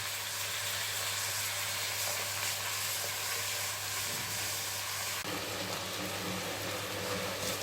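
Onions fry in a pan for kabsa with a dense, steady sizzle that stays close and loud from start to finish, shifting slightly in tone as they are stirred, with no talking.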